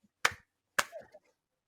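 A person imitates someone clapping in a cinema during the credits, giving two sharp, close hand claps about half a second apart in otherwise quiet surroundings.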